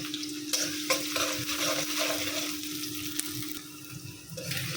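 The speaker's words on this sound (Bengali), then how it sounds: "তো এখন তেলের মধ্যে প্রথমে পেঁয়াজগুলো দিয়ে দিব একটু বেশি করে পেঁয়াজটা দিলাম" Onions hiss and sizzle in hot oil with a loud, continuous frying crackle, interrupted by repeated scraping strokes of a spatula stirring the pan close up, while a steady electrical hum runs underneath.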